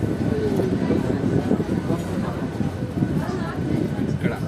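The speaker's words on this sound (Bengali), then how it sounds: "তো ফাইনালি আমাদের ট্রেন ঢুকে গেল পলাশি রেল স্টেশন" A local train rumbles steadily as it rolls into Palashi railway station, a dense low roar with faint clatter, and people talk over the noise throughout.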